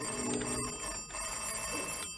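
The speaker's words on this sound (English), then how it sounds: "What's that? What's that? Oh, the phone." A telephone rings in a radio comedy, a steady bell-like ringing held over the whole moment, fairly loud and alone without talk.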